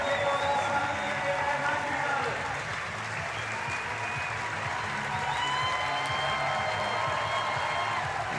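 A Munich crowd applauds steadily at the women's semifinal of the 2022 European bouldering championship. The clapping is dense and continuous, with a commentator talking over it.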